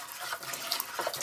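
Water being stirred by hand in a tank to mix in bentonite clay for winemaking, a soft, close sloshing and trickling with small splashes, faint and unbroken, with no voices.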